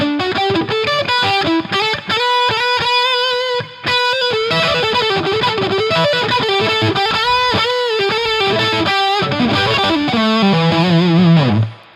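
An electric guitar with heavy distortion and a chorus effect, its strings damped by a Gruv Gear fretwrap, plays a busy run of notes loud and close, ending in a lower chord that cuts off.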